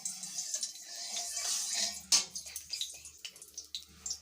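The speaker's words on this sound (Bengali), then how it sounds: "পটলগুলোকে ভেজে নিচ্ছি।" Pointed gourd pieces frying in hot oil for a Bengali mustard-sauce dish, giving a loud, close, bubbling sizzle with bursts of crackle and hiss and no voices.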